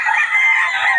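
A rooster crows at a farm in Bocaue, one sustained, loud call held close to the microphone for about a second with no talk over it.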